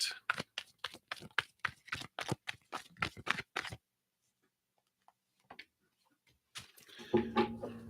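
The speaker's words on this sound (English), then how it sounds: "Let me just shuffle that once." A deck of tarot cards is shuffled in a rapid run of crisp, close riffling clicks and flaps, followed by a pause, a few soft taps, and then a voice speaking.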